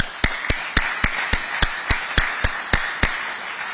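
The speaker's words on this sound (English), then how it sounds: "So I want to give you a round of applause." Clapping for the Governor at an event marking six months since the Los Angeles wildfires: about eleven sharp, evenly spaced claps in a steady rhythm, close and distinct, like a single pair of hands rather than a full crowd.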